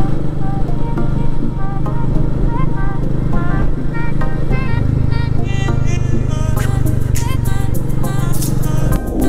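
A motorcycle travels a winding mountain road in Meghalaya near Shillong, its engine a steady, continuous low drone throughout, with sharper tonal sounds appearing near the end.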